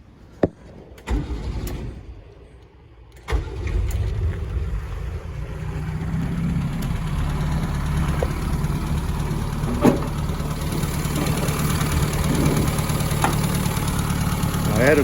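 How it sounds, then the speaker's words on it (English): A 1961 Renault Dauphine engine cranks with a few sharp clicks and a brief pause, then catches and settles into a steady, slightly knocking idle that continues close by, with a voice speaking over it. "I'll go ahead and start it now."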